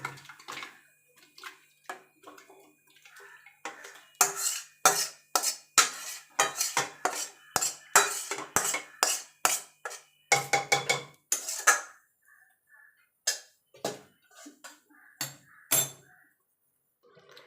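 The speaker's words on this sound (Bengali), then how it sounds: "এবার প্রেসার কুকারের মধ্যে আমি ঢেলে দেবো।" Mutton pieces are tipped from a pan into a large pressure cooker, giving a loose series of close metallic clinks, scrapes and wet knocks that bunch up in the middle and thin out toward the end.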